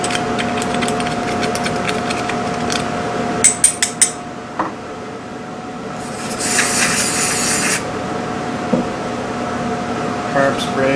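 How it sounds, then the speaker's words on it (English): Metal scraping and tapping at close range as a small screwdriver clears debris off a snow blower engine part, a few sharp clinks, a brief carb-spray hiss and a low mechanical hum underneath. "Take a little screwdriver and get as much of that debris off as possible."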